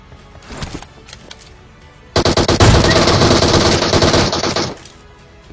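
A sustained burst of rapid automatic gunfire from a PUBG Mobile match rattles loud and close for a couple of seconds, preceded by quieter game ambience.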